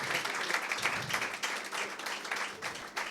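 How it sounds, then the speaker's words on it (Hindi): A church congregation applauds at a gospel service, a steady wash of many hands clapping at moderate distance, fairly quiet and continuous with no talking over it. "तालियां बजाएं"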